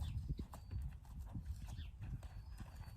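A young colt's hooves clip-clop at a slow, uneven walking pace on hard ground, fairly faint and without talk.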